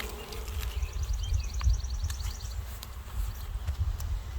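Honeybees buzzing around a lifted brood frame at an open hive during a split, a steady low drone close by with a few higher wing whines, no talk.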